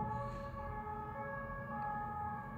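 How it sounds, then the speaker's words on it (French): Faint emergency vehicle siren from the street carries into an apartment room as a steady, distant tonal wail over a low background rumble. "Comme vous le constatez, on peut entendre un petit peu la rue quand il y a les sirènes"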